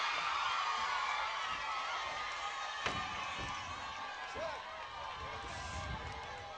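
Students at an outdoor school competition in Kalaban Coro cheer and clap, a faint, distant crowd wash with a few sharper bursts and a voice talking over it.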